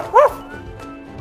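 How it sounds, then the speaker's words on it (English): A friendly dog gives a single short, loud bark-like yip near the start, followed by quiet background. "First, we have a friendly dog."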